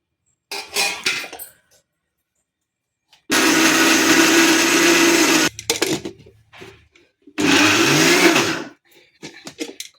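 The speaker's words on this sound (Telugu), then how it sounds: "ఇవన్నీ అండి ఇంకా మిక్సీలో వేసుకొని మిక్సీ కొట్టుకోవాలి" A mixer grinder blending onion, coriander and spices whirs loudly in two steady bursts of a few seconds each, separated by clatter and handling noises of the jar.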